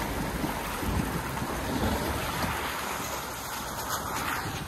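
A 4x4 vehicle splashing through water on a snowy, icy trail, a broad continuous rush of water and engine noise with heavy wind buffeting the microphone.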